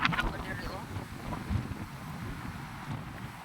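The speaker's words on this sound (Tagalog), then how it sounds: "kalit ra kusog ang hangin" Sudden strong gusty wind buffets the microphone with a steady low roar, loudest at the start, while a voice talks faintly underneath, sheltering under a tree.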